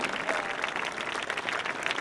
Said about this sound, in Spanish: A Silvia un aplauso también.